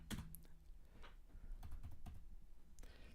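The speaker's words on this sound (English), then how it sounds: "It's very difficult typing when you've got a bloody great microphone right in front of your fingers and I can't type properly" Fingers type on a computer keyboard close to a large microphone, a quiet run of irregular clicking keystrokes with a few sharper taps over a soft background hum.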